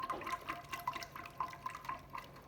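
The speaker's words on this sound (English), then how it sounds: "And start whisking it too." Whisk clinking quickly against a bowl of chocolate custard mixture with cream, a rapid, steady series of light ticks and sloshes, fairly faint and close, with no talking.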